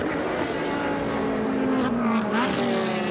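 An IMSA Grand-Am race car at Fontana in 2002 roars by at speed, a loud continuous engine drone with a pitch shift as it passes close, under commentary.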